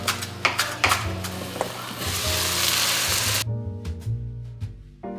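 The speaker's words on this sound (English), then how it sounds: "add a little bit of olive oil and saute your garlic, your herbs" Garlic and herbs, including thawed frozen sage, sautéing in a little olive oil in a pan pushed aside from vegetables, giving a steady close sizzle with clinks of stirring, then tapering to quieter, sparser crackles.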